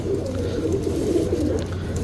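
Pigeon from a breeder's collection cooing softly and steadily close by, a low rolling murmur that continues through the whole stretch with no talk over it.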